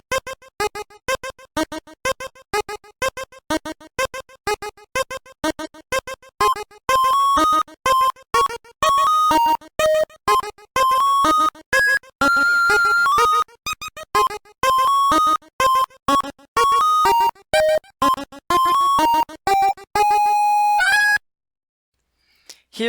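A track from the Undertale soundtrack plays as a bright, chiptune-like melody of short, evenly spaced plucky notes, cutting off abruptly near the end.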